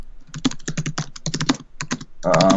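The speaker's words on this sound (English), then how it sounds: "Sorry, I'm typing a Shade Tree." Rapid clicking keystrokes on a computer keyboard, close and steady in irregular bursts with a short pause mid-way, ending as a voice begins.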